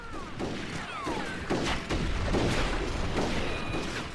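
Cannon fire in the Red Dead Revolver video game, a dense barrage of booming blasts and crashes, loud and continuous with whistling effects over battle noise.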